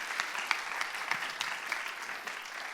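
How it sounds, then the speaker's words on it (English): Quiet, fairly distant applause from a church audience, a steady patter of many hands with a few sharper claps, lasting a few seconds without talk. "We give them a round of applause, guys."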